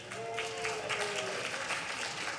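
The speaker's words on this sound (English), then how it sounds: "I would tell you to hold your applause, but you're not going to listen anyway" Brief audience applause at a village tenth anniversary celebration: a crowd claps steadily and fairly loudly for a couple of seconds, with faint murmuring beneath the clapping.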